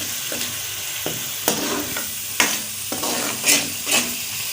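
Chili masala stirred in a hot pan, continuous sizzling with a handful of distinct scraping spoon strokes at irregular intervals, close and fairly loud.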